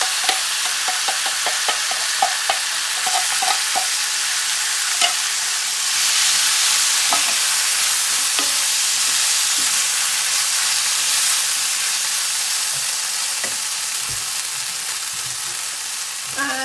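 A beans and tomato mixture hits a hot frying pan and sizzles loudly and steadily, with scattered clinks and scrapes of stirring at the start.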